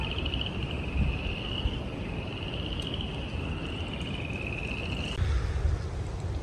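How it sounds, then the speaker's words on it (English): Upland chorus frogs call in early spring, a series of repeated, high rasping trills rising from a steady background hiss, moderately distant and fairly faint. "Ah, I love that sound. Upland chorus frogs."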